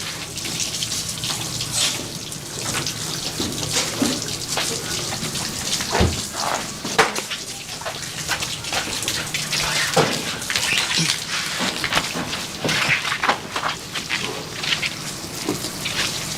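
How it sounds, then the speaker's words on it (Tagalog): Steady rain falling and splashing, with scattered drips and patters throughout, continuous and fairly close. "Umuulan eh. Talagang ganyan. Umuulan eh."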